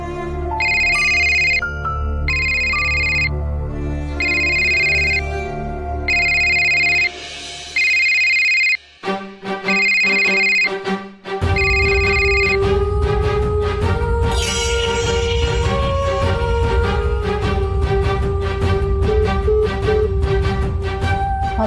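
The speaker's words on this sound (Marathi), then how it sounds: "फोन वाजत होता म्हणून घेतला मी" A mobile phone plays a melodic ringtone as a loud, repeating electronic tune in regular bursts for about nine seconds, and then a fuller stretch of background music takes over.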